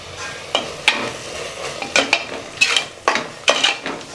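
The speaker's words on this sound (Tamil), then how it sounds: "நல்லா கலந்து விட்ட வேண்டியதான்" A spoon scraping and stirring tomato pulao with fresh coriander and mint leaves in a pot, a series of sharp clinking strokes over a soft sizzle, close and alone.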